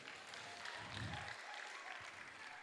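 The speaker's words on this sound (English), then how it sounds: "A round of applause to them." Audience applause for the winners at a vocational skills graduation ceremony, a steady, fairly quiet wash of clapping from a crowd that holds through the whole stretch.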